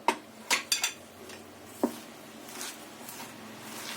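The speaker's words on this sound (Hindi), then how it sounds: "सबसे पहले हम इसे अच्छी तरह मिक्स करेंगे" A spoon knocks and scrapes in a bowl while spinach pakora batter with green chili, onion, salt and baking soda is stirred, several sharp clinks early then softer wet mixing.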